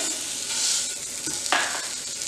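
Khoya is added to a pan and stirred, with soft scraping and a light sizzle, a brief louder scrape midway, close and alone without talk.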